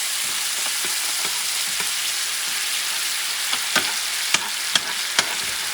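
Grated tomato sizzles steadily as it goes into hot oil for a cod paella, a dense, close, continuous frying hiss with a few soft clicks of stirring toward the end and no talking.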